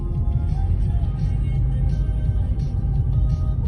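Cars travel down a regular highway in Kiev, a steady, close road rumble with low engine drone and tire noise that carries throughout without a break.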